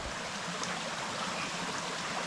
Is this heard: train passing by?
no